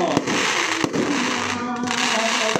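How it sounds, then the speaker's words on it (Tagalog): Fireworks display at an outdoor public event in Urbiztondo, heard as a dense, continuous crackling roar with several sharp bangs standing out, loud and close throughout. "nakakatuwa manood ng fireworks display"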